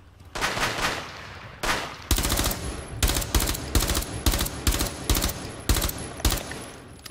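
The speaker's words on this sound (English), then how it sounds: "I don't know why I kept shooting." Rapid bursts of automatic gunfire in Rainbow Six Siege, several clustered volleys of sharp shots repeating in a steady stuttering rhythm, loud and close, with no talking over them.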